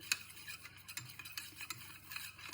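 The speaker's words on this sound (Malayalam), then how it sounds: "നമ്മൾ പഞ്ചസാരയൊക്കെ ഇതിനെ നല്ല മിക്സ് ചെയ്യുമ്പോൾ തന്നെ" Pudding mixture of milk and sugar being stirred in a bowl, producing soft repeated scraping and light clinks of a utensil in an irregular rhythm, close and fairly quiet with no talking.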